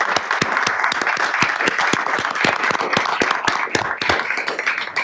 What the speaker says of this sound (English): let's give a round of applause for all of our candidates